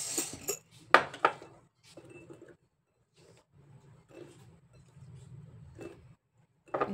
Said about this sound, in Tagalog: Iluko sa natin para mag-mix.